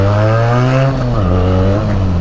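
A motorbike with a modified exhaust revs loud and close, a deep throbbing drone that holds steady, then dips and swells again as the throttle changes, alone without voices.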